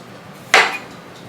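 Crinkle-cut fresh cucumber slices for cold process pickles dropped into a glass jar, a single close, bright clattering thunk that rings briefly against faint room background.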